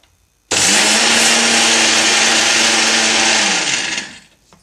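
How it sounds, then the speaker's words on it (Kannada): Kitchen mixer grinder blending flaxseed chutney powder with salt: a loud, steady electric whir starts abruptly, runs for about three and a half seconds, then winds down and stops. "ಈಗ ನಾನು ಅದಕ್ಕೆ ಅಗಸಿ ಹಾಕ್ತಾಯಿದ್ದೀನಿ ಈಗ ಇದನ್ನು ಗ್ರೈಂಡ್ ಮಾಡ್ಕೊಳ್ಳೋಣ"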